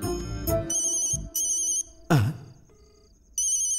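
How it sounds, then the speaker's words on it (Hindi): A phone ringtone chimes in repeated bright bursts, pausing briefly between rings, close and clear with no talking. "फोन की घंटी यहां क्यों बज रही है?"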